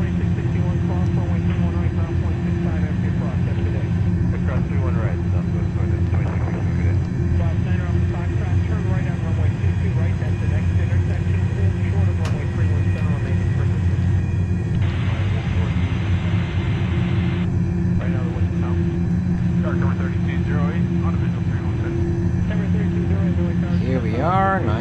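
Airbus A320 in a flight simulator taxiing onto the runway, a steady loud engine drone with broad rumble throughout, and a person talking over it at times.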